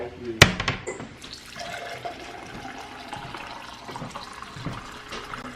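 Water runs from a tap into a container for a dog to drink, a steady splashing rush after a sharp clunk at the start, with soft voices faintly underneath.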